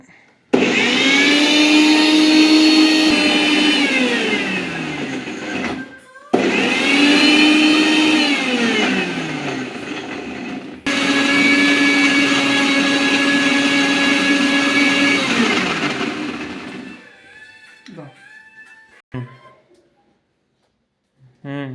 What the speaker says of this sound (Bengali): দিয়ে দিলাম মিক্সিতে সব